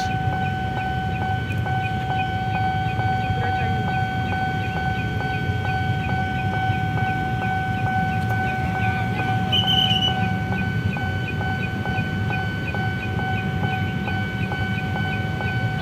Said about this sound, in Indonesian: Kita lihat ini kereta apa yang akan melintas